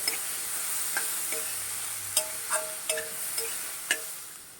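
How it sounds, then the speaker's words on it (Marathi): Raw mango rice mixture stir-fried over a low flame, a soft, steady sizzle broken by scattered sharp clinks of the spatula against the pan, close with no voices. "आपण आता फक्त परतून घेऊया बारीक गॅस करून परतून घेऊया"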